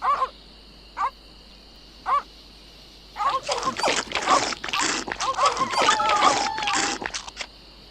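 Dogs in The Secret of Monkey Island bark in three short separate yips, then a longer stretch of busy overlapping barking, whimpering and game effects fills the rest.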